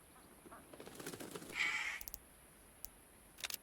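Australian bird screeches and harsh calls in a video game rise in short bursts, including one drawn-out shriek, over a steady background hiss.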